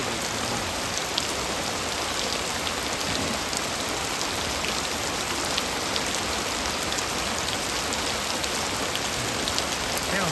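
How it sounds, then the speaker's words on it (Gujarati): Heavy rain pours steadily on a Botad-area village at night, a dense, continuous hiss of drops on surfaces that stays even and close throughout, with no voices. "મસ્ત વરસાદ પડે"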